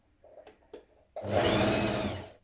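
A sewing machine stitches a mock trouser fly on a long basting stitch: a couple of brief clicks and starts, then a steady, close whirring run of rapid stitching.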